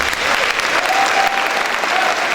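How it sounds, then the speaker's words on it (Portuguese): A church congregation claps together in sustained, lively applause, loud and close, with a few faint tones ringing briefly underneath. "Vamos aplaudir o Senhor."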